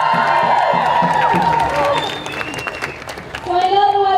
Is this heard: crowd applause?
yes